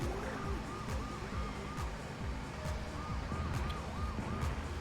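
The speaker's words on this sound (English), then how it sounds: "That police car needs to get the fuck away." Police car siren in the RC Revenge racing video game: repeated wailing siren sweeps cycling through the clip over a busy bed of engine and game noise, with no talk.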